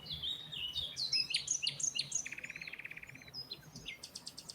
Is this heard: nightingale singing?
yes